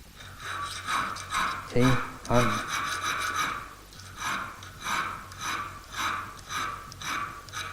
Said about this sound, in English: apply the file at an angle, which is the same as the angle on the cutting edge